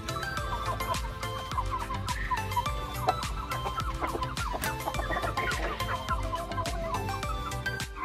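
Native chickens cluck and chatter continuously in a crowded poultry house shared with quails, many overlapping calls close by over a low steady background hum.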